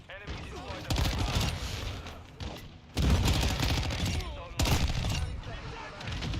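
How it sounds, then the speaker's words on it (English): Grenade explosions in Call of Duty Modern Warfare II on the Shipment map: three loud, broad bursts of blast noise a second or two apart, each sudden and heavy, with dense game sounds between them. "Oh my god, the grenades!"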